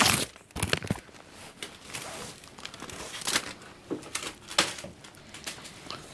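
A paper envelope holding a hotel card key is handled at close range in a Blackpool hotel, giving irregular crinkling, rustling and tearing-like bursts with no speech.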